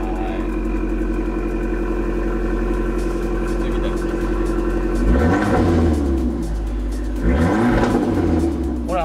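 A steady idle from an Abarth with a factory-changed exhaust muffler breaks into two sharp, raspy revs a couple of seconds apart, each dropping back to idle, close and loud.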